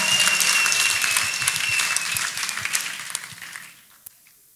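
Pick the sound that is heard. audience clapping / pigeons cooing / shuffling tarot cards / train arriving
audience clapping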